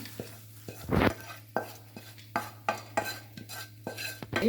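A spoon repeatedly scrapes and tosses spicy chooda, a flattened rice snack, around a pan after the gas is turned off, giving about ten rhythmic, close scraping strokes over a faint steady hum.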